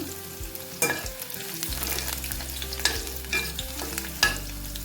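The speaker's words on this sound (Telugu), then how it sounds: "ఆయిల్ వేసాము ఒక మూడు స్పూన్లు ఎల్లిపాయలు వేసాము కాస్త బాగా ఎర్రగా కాస్త కలర్ వచ్చేంత వరకు ఫ్రై చేసుకుందాం" About three spoons of oil with garlic frying in a pan for Andhra-style gongura chutney, with constant sizzle, repeated scraping stirs and a few loud utensil knocks, no voices.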